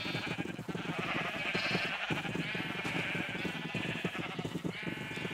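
Sheep bleat repeatedly over a farm background, several overlapping calls rising and falling close by across the whole stretch.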